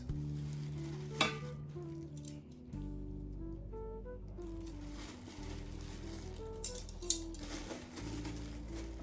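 Fish being added to a hot pan for a seafood boil, sizzling and frying steadily throughout with stirring and a few sharp clatters, no voices.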